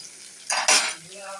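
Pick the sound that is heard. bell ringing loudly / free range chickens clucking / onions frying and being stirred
onions frying and being stirred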